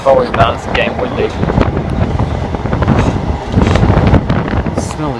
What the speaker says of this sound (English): Get ready to turn your volume down,